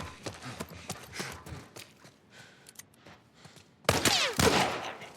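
Gunshots in the video game The Last of Us remake, a few scattered shots and thuds early on, then a loud close blast near the end with a ringing tail.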